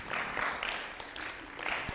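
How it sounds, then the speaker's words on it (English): Brief, fairly faint clapping from a seminar audience, a few quick bursts of scattered hands over about two seconds. "give her a clap"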